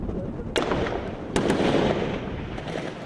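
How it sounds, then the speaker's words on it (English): Gunfire and grenade blasts in combat in Libya, with two sharp, loud explosive cracks about a second apart over a rumbling backdrop of ongoing shooting. "They use grenades, machine gun fire, small arms to try to shift them."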